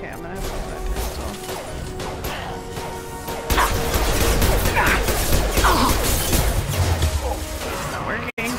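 Pistol gunfire in the video game Mass Effect 2, heard as a dense run of sharp shots and crashing impacts that grows louder partway through, mixed with other combat noise.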